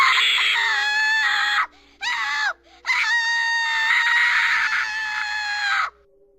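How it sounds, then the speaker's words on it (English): Shrill, piercing screams from The Crooked Man video game come in three loud bursts, the first long wail breaking into two short yelps before another sustained scream, with no talking over them. "I love the screaming sound effects in this game."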